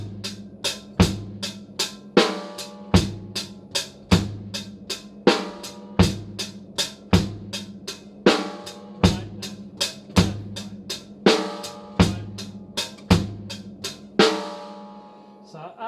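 A slow, steady drum beat of bass drum pedal hits and snare strokes, evenly spaced at roughly one per second, close and clear with no talking, ending in a brief ringing decay.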